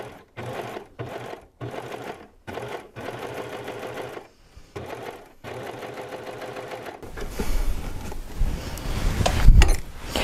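A serger stitches lace insertion onto fabric while trimming the edge, in heirloom sewing. It runs in close, loud bursts with short pauses, then settles into a longer continuous run.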